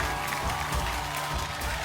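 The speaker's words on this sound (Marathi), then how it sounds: "एकदा जोरदार टाळ्या होऊन जाऊ दे." A studio audience on a Marathi TV game show claps loudly and continuously, giving a dense, steady wash of applause.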